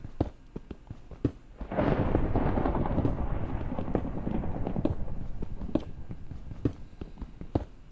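Low rumbling thunder rolls in from about two seconds and sustains as a broad, steady roar in Minecraft while the player is underground, with scattered sharp clicks and taps from block actions throughout.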